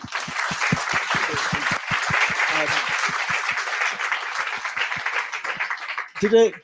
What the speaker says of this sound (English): Big round of applause for Nico.